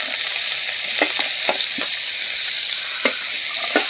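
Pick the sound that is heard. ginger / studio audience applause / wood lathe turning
ginger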